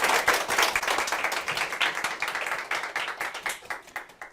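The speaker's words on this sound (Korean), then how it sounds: "박수 부탁드리겠습니다" Live audience at an author talk forum applauds the guest author, dense, lively clapping that carries on for several seconds and slowly tapers, with no speech over it.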